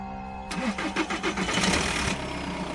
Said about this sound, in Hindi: जैसे ही इंजन स्टार्ट होता है